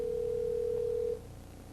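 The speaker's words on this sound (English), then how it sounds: "the phone is ringing" A telephone line tone, loud and steady, holds for about a second before cutting off, leaving quiet background hum.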